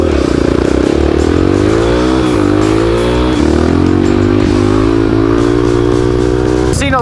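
A Honda XR650R supermoto motorcycle with a 650 engine being ridden, its loud, close engine droning steadily and climbing gradually in pitch through the gears, with wind noise and a sharp clatter near the end.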